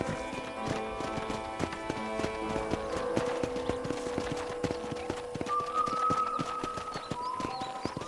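Horse hooves clip-clop at a steady walking rhythm on a ranch in the video game Red Dead Redemption, close and continuous over a layered music and ambience bed, with a bird call briefly audible.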